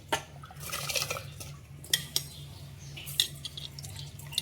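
Kodo millet (varagu) rice tipped into boiling water in a cooking pot and stirred, with sharp metal clinks of a spoon against the pot over a soft bubbling wash, close by and with no voices.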